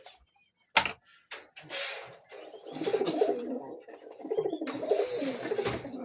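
Pet pigeons in a coop on a cold day, soft repeated cooing and murmuring close by, mixed with a few sharp knocks and rustles and someone speaking at times.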